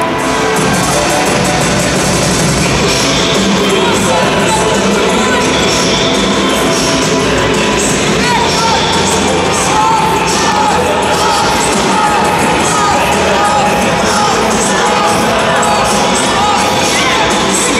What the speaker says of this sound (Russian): Просим их поддержать бурными и продолжающимися аплодисментами.